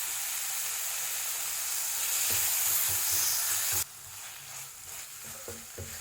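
Tomatoes sautéing in a masala base for egg rice sizzle and hiss steadily in the pan, with a few stirring knocks before the frying drops to a softer crackle.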